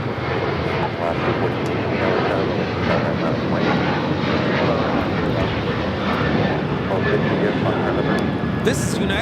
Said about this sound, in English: This is United Airlines 2361 taking off to Seattle on the 737-900ER.